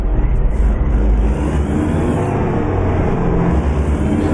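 A 13-speed truck engine pulling away from a stop with a trailer in American Truck Simulator, a loud, steady low rumble that holds throughout with no voices.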